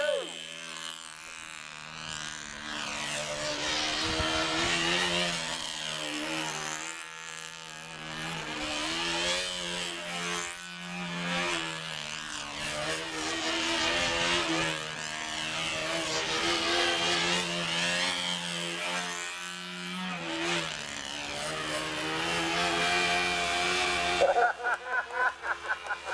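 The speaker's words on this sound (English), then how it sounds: "there is a control line airplane actually hovering" A control line model airplane engine screams as the plane hovers, a loud, high buzzing whine that swells and fades rhythmically as it circles, continuing for the whole stretch and ending with a few sharp pulses.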